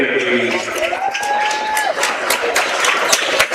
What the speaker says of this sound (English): Round of applause for your tournament players, Zion Hall and Brandon McCoy.